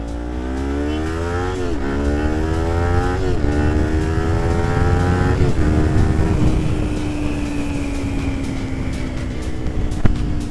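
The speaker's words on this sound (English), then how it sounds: "I forget how loud this bike is sometimes when I don't wear earplugs" A Kawasaki Ninja 400 motorcycle engine roars loudly and close while riding, its pitch climbing repeatedly as it accelerates through gear changes, then settling into a steady high-revving drone.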